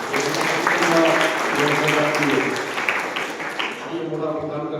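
Audience clapping at a public gathering for a guest, a dense steady patter of applause mixed with voices talking underneath throughout.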